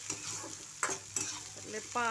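Faint crackling sizzle of freshly washed wet coriander leaves hitting hot oil, with a few sharp spits and stirring scrapes, heard alone without talk.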